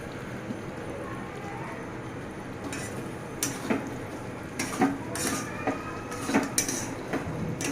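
Fried pointed gourd (potol) gets stirred in spiced oil in a pan, with scattered scraping and clinking of a spoon against the metal over a soft frying hiss, no talking.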